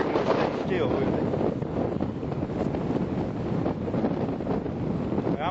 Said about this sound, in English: This wind's aggravating me.